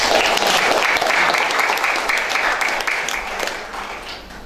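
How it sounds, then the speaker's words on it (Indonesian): Loud crowd applause at a community organisation assembly in Balikpapan, dense sustained clapping that gradually tapers off. "Tepuk tangan dulu untuk semua"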